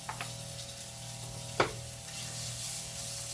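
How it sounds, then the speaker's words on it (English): Sliced onion and minced garlic sauté in oil in a pan, making a low, steady, close sizzle with one brief knock of a utensil midway. "Add a little bit more oil because I have to do onion and garlic now. Just gonna saute these up."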